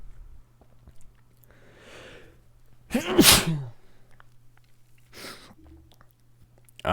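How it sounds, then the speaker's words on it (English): One sudden sneeze, close and loud, against a quiet room with a steady low hum and soft breathing before and after. "Excuse me, I had to sneeze there."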